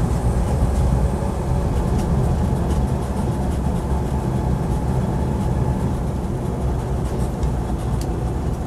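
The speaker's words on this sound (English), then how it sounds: "But the engine pulls really nicely." A Land Rover Series 2a 88in with a non-synchro gearbox pulls along the road, giving off a continuous, loud, broadband engine drone and road rumble from inside the cab with no pauses.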